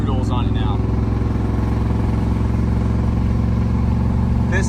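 Loud, steady V8 rumble from a 5.9L truck engine fitted with new mufflers, a deep low idle burble that runs continuously, with a brief voice at the start and end.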